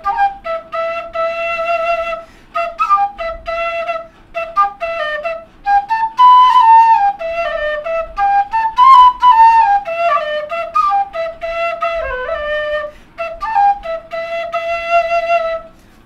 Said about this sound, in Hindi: अभी मैं सेम चीज क्वेना में बजाऊंगा